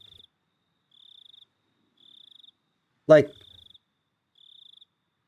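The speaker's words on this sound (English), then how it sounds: "I feel that these cicadas have something to do." Cicadas chirp in regular pulsed bursts about once a second, evenly spaced and faint, in the video game Higurashi When They Cry; a voice briefly speaks over one burst.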